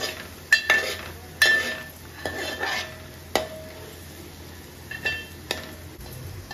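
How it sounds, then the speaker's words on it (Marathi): Fish curry masala for an Agri-Koli style sour rassa is stirred and sautéed in a pot, with a metal spoon clanking against the sides in an irregular rhythm over a soft sizzle. "आई पूर्ण तो परतवून घेते चांगल्या प्रकारे"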